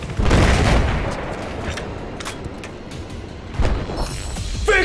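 Grenade launcher rounds exploding in Battlefield 4 Obliteration mode on PS4: a heavy booming blast up front, then scattered distant gunfire and smaller bursts, with another thump near the end.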